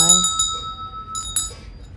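A small brass bell rings twice in a thrift store, each strike a bright, sustained metallic tone that decays slowly, with low room noise beneath.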